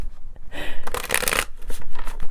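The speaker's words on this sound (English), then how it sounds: "two more shuffles" A deck of playing cards riffled and shuffled close up, a quick run of crisp ruffling bursts followed by lighter taps, with no talking.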